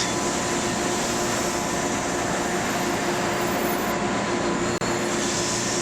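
Steady rumbling clatter of Acela Express train bogies rolling along track in the Trainz 12 video game, continuous and fairly loud with a faint hum, brief dropout near the end.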